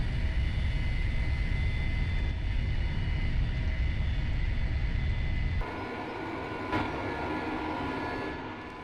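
Aircraft engines roar loudly and steadily after landing, then drop abruptly as the throttle is pulled back, leaving a quieter rumbling whine that fades toward the end.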